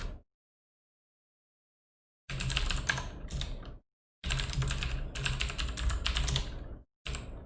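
Bursts of computer keyboard typing on a personal machine, close and crisp, in three separate runs of rapid keystrokes broken by silent pauses, with no talk.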